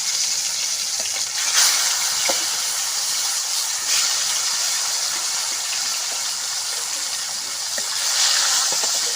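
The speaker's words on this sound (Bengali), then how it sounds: "তেল গরম হয়ে গেছে, আমি এখন মাছগুলো ভেজে নিচ্ছি।" Fish, snakehead by the title, going into hot oil in a village kitchen, giving a steady broadband hiss and crackle with a few sharper pops, fairly close and continuous throughout with no talking.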